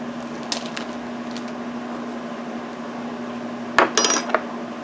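Fantasy Blue star sprinkles are poured into a mix, giving a few faint, brief rattling patters, mostly in a short cluster near the end, over a steady low hum.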